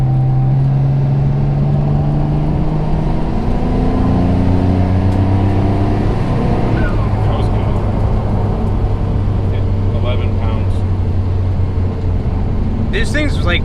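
Built twin-turbo Mitsubishi 3000GT engine pulling hard under boost, a loud, steady roar whose pitch climbs as it accelerates, close and continuous with brief voices at the end.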